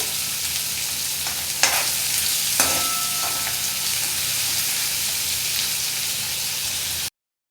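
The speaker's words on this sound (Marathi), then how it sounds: "कांदा व्यवस्थित परतून घ्यायचा आहे" Onions sautéing in a pan for a spinach garagata dish, with a steady close sizzle and a few sharp clinks of a spatula stirring against the pan; no voices.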